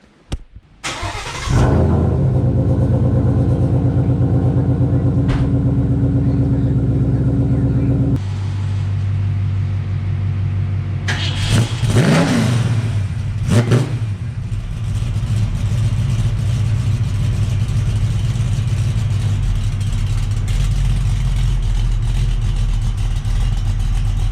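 Two Ford Mustangs are cold started one after the other. The first engine cranks and fires into a loud, deep idle. A few seconds later the second one catches with a rising rev flare, then both settle into a steady rumbling idle.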